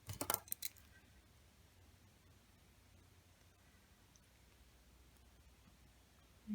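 A few quick, sharp snips of jewelry wire being cut down to size for beaded earrings come close up right at the start, followed by faint steady hiss.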